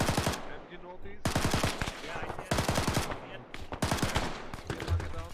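Sustained machine gun fire from an ArmA combat game, several long rapid bursts of automatic shots separated by short gaps, loud and close, with voices faintly under the shooting.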